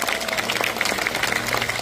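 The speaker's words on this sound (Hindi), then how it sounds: "ताली बजाकर धन्यवाद दें।" An audience at a Hindu religious gathering applauds, a steady dense patter of many hands clapping at moderate distance, fairly soft and continuous through the short stretch.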